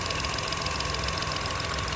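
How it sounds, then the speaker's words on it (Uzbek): A Chevrolet Onix car engine idles steadily up close, a continuous even drone with a slight knocking texture and no pauses or voices. "Mana motor ishlashi."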